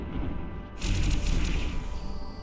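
Spaceship explosion in the space video game EVE Online, a loud burst of crackling blasts that rises suddenly about a third of the way in and rumbles on steadily to the end, with no voices.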